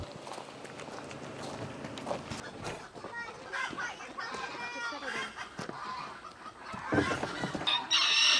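Chickens cluck steadily around a small farm coop while a rooster crows near the end, with footsteps and people talking over the birds.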